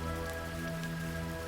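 Rain falls in a steady, even hiss that continues unbroken and close, with no voices over it.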